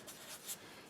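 A tool scores a line across paper for a flipbook, one short close scraping stroke, quiet and alone.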